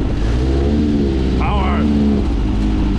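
A snow buggy's engine drones and revs loudly and close as it slides around in snow, with a steady rumble and rising pitch swings, while a voice talks over it.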